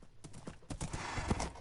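Horse hooves clip-clop in quick, uneven beats in a PS4 video game, a short burst of close, clattering steps with a faint whinny-like tone beneath, no talking.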